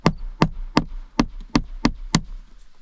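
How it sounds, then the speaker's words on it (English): A hammer drives nails into vinyl siding in seven sharp, evenly spaced knocks, close and distinct, each ringing briefly before the next blow. "you don't want to nail this tight either"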